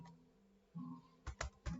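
Keys tap on a computer keyboard while C++ code is typed, a handful of quick, close clicks, including a short burst of three near the end, with no speech over them.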